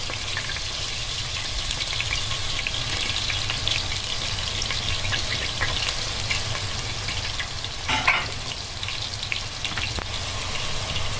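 Onion for a pasta sauce sizzles steadily in a hot pan, a continuous close, even frying hiss with occasional soft stirring sounds and no talking.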